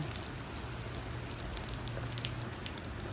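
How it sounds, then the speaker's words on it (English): Light rain pattering down outdoors, a dense, even crackle of small drops on surfaces that keeps a steady moderate level with no voices. "but we finally have a little bit of rain."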